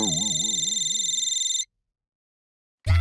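A telephone rings loudly with a warbling electronic trill lasting about a second and a half, then cuts off into silence before a brief loud burst of another sound at the end.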